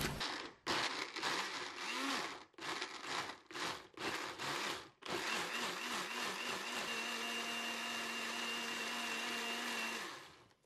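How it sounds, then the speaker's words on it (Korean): A kitchen blender grinds plum flesh with no water added, starting with several short, choppy bursts of whirring motor and then settling into one long, steady, loud grind before cutting off. "물을 넣지 말고 이대로 갈아주겠습니다."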